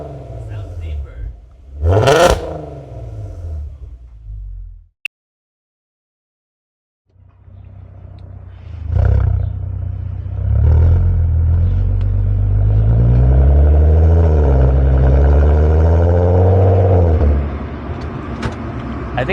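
A VW MK5 Golf R32 engine with a Magnaflow exhaust and deleted resonator revs up loudly and holds a deep, warbling drone after a short silence, with people talking nearby at the start.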